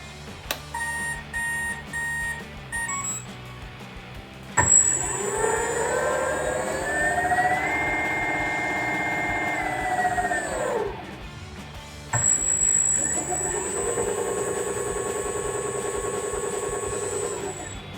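A DIY electric skateboard motor, run through an ESC by a radio controller, opens with several short beeps and then spins up twice into a loud, steady electric whine that rises, holds and winds down, close by.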